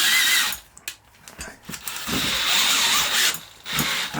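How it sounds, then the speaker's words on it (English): A hand drill bores out old threads for supermoto stunt pegs, with the workpiece held in vise grips, giving a harsh irregular grinding whine in uneven bursts close by. "just start drilling the threads out."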